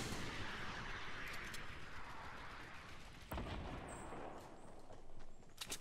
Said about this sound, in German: Schießen auf meine Mauer.